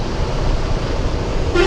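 Dense city traffic in Kolkata, West Bengal, with a steady roar of engines and road noise and a sharp car horn honking near the end, no one speaking.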